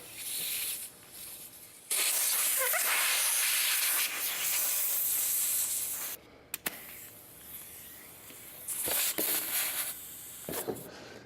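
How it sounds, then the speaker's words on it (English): Air hisses steadily into a tire being inflated to 60 PSI after sealant was added, in long loud bursts with short gaps between them and brief sharp releases toward the end. "Then what I'll do is I'll inflate the tire to the pressure is required, which is 60 PSI"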